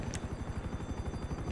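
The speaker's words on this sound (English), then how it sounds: "Got the helicopter!" A helicopter in GTA 5 whirs with a fast, regular rotor chop, a steady pulsing throb that stays close and fairly loud with no talk.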